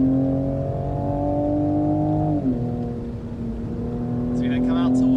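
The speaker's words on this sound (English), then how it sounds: "Sounds like a BMW." A BMW-engined car with a quick-shifting gearbox revs under load while driving, a steady close engine drone that drops in pitch as it shifts, then climbs again.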